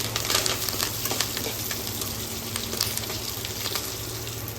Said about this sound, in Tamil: காஞ்ச மிளகாய் சேவந்த பிறகு கருவேப்பிலை போட்டுக்கோங்க